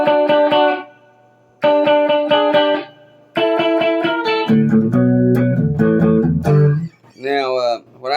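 An electric guitar with tube distortion and chorus plays short repeated chord stabs, pausing between phrases, then moves into lower sustained notes.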